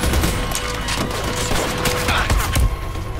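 Dense, loud gunfire in the Army of Two shooter game, during an oil field level: a rapid continuous crackle of shots with low thuds throughout; no talking.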